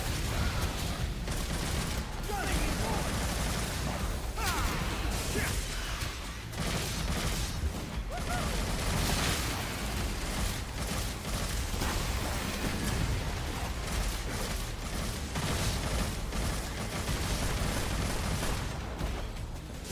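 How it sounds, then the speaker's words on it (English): Exploding eyeballs in Devil May Cry, a continuous dense stream of bursting pops and booms with steady heavy combat noise throughout, fairly quiet overall, with faint voices underneath. "exploding eyeballs"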